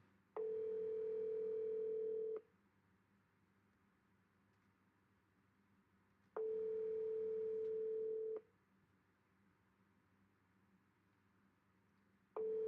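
An outgoing phone call rings back while waiting for an answer: two-second ring tones repeat at a steady interval over a faint line hiss, with no one talking.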